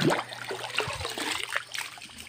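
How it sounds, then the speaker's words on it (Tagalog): River water trickling and dribbling in a steady, gentle flow in a rural province, fairly close, with small splashes and no talking. "Tapos kukuha ng tubig dito sa ilog."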